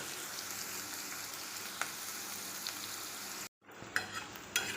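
Finely chopped onions sautéing in a pan until golden: a quiet, steady sizzle with occasional stirring clicks, briefly cut off and then resuming with a few utensil taps.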